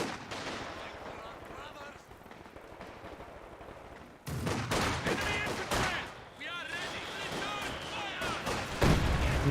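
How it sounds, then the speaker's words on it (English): In the strategy game Company of Heroes 2, a 110mm mortar and other battlefield weapons fire with booming impacts and gunfire. The sound is loud and dense, and a voice talks over it. "Nice 110mm mortar."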